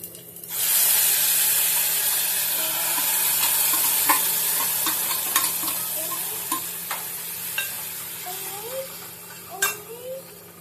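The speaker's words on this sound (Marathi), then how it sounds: "वरण फोडणीला घालूया।" Cooked dal is poured into a hot tempering of cumin, mustard seeds, asafoetida and green chilli, giving a sudden loud hiss that settles into a steady sizzle. Scattered utensil clinks and scrapes follow as it is stirred.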